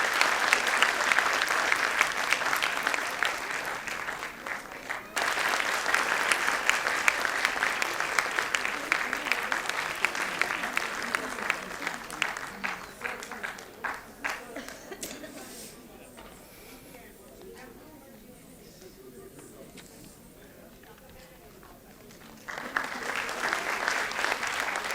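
Sustained audience applause for a young Bharatanatyam dancer at an arangetram performance, loud and steady, fading to a quieter patch of scattered claps before swelling again near the end.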